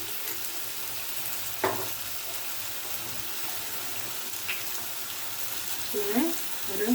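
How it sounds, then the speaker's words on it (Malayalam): Soy sauce goes into a hot pan of gobi manchurian (cauliflower manchurian with gravy) and sets off a steady, close sizzle. Faint stirring clinks and scrapes come through, with a few louder touches near the end. "നമുക്ക് സോസുകളൊക്കെ നമുക്ക് ഒഴിച്ചു കൊടുക്കാം. ഇതൊരു 1 ടീസ്പൂൺ സോയാ സോസ്"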